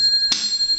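Short notification bell chime, a single bright ding struck once over a steady high tone, clear and close.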